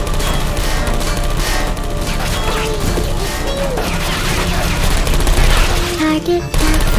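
Rapid turret gunfire in Portal 2 rattles on in dense bursts for several seconds, loud and close, with game noises and a voice mixed underneath.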